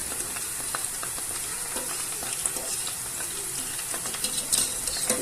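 Potatoes frying in hot oil in a home kitchen, a steady bright sizzle and crackle with occasional sharper pops, close and continuous throughout, no talking.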